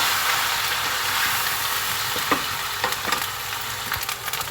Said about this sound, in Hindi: तकरीबन 1 से 2 मिनट हम इसे फ्राई कर लेंगे लहसुन अदरक को ऑयल के अंदर।